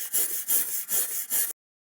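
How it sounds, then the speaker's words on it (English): Wire toothbrush scrubbing a rusty jungle machete blade with general purpose cleaner, four steady back-and-forth rasping strokes in an even rhythm, close and clear, then stopping abruptly. "just going to use some general purpose cleaner and a soft brush. Looks like a wire toothbrush."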